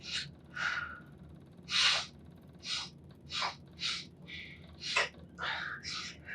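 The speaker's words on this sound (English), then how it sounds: "Calm your breathing." A person gasps and breathes heavily in panic, with about nine sharp, airy breaths and gasps coming in a ragged, uneven rhythm, close and fairly quiet.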